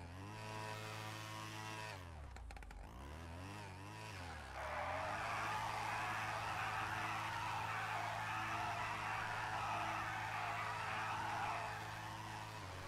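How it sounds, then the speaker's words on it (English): Video game car engine whines loudly and steadily, dipping and climbing in pitch before a long harsh tire skid hiss sets in over the droning motor, with no talk. "The engine on this sounds jokes."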